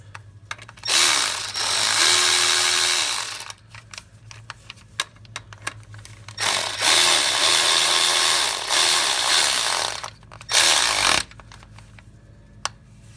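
Power tool running down oil cooler line bolts on a 2007-2013 Chevy pickup with a 5.3 engine, three loud close bursts of whirring with brief clicks and ratcheting between them.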